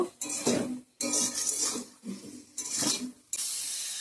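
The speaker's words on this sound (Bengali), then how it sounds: "ভালো করে কষিয়ে নিব" Metal spatula scraping and stirring meat with tomato paste in a pan while sautéing, in repeated bursts of clinking and scraping separated by short pauses.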